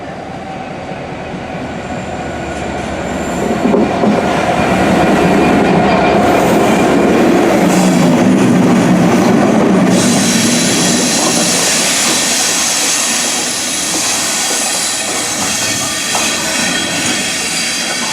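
A Class 69 diesel locomotive passes through Kidsgrove railway station on the North Staffordshire line, its roar swelling loudly from a distance, peaking mid-pass with rumbling wheels, then fading gradually as it moves away.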